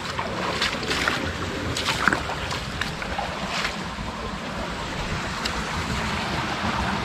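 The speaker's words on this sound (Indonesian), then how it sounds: "ini aliran sungai deras." A fast-flowing river churns and rushes in a steady, broad wash, loud and continuous throughout with no voices over it.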